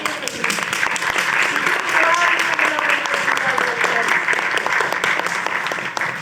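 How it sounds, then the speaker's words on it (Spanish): A room full of people at a Chilean short film festival talk breaks into loud, sustained applause, with voices and cheers mixed in beneath the clapping. "A ver, vamos a aplaudir."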